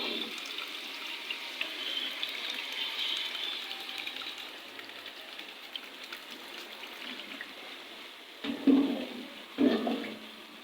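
Water pours into a pot of spiced lentil dal mixture in a home kitchen, a steady splashing stream that tapers off, followed by a couple of louder clunks near the end.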